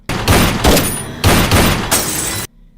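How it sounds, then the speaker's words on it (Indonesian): Five or six loud, sharp gunshots crack in quick succession, each with a short booming tail, before the sound cuts to near silence. "terdengar suara tembakan"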